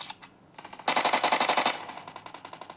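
Rapid automatic gunfire from a first-person shooter video game as the player guns down enemies, a dense burst of close, loud shots followed by a slower string of evenly spaced rounds.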